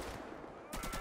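Gunfire in the video game GTA 5: a steady stream of loud shots fills the opening, then a louder, denser burst of rapid blasts hits near the end.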